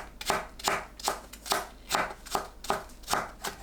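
A knife cuts green onion into thin strips on a cutting board for a Korean spring greens salad, making about nine steady, close chopping taps in an even rhythm.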